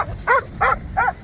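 A dog at a Saturday dog market in Casablanca gives three evenly spaced, close, loud barks with a slightly whining, yipping edge, over faint crowd background and no clear talking.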